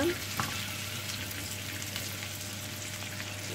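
Potatoes frying in butter and oil in a pan make a constant, even sizzle close by, loud at the very start and then steady throughout.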